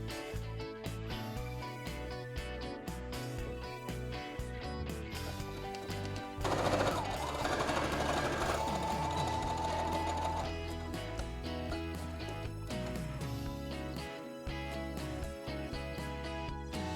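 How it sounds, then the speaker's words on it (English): Sewing machine top stitching the trim of a vintage-inspired lace dress, fast rhythmic stitching bursts with short pauses, joined by a brighter sustained passage midway, close and fairly quiet. "I'm just going to top stitch it here about 2 centimeters from the bottom of the trim upwards"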